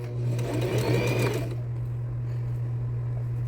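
A sewing machine backstitches in reverse on a small fabric Easter chocolate holder, with a close, rapid mechanical stitching burst of about a second and a half, then a steady motor hum as it runs on alone.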